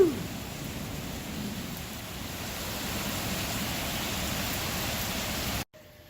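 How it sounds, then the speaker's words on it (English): Heavy rain pours steadily into a backyard swimming pool, a dense, loud, unbroken hiss of drops hitting water that cuts off abruptly near the end. "We're up to over 3 inches of rain so far today."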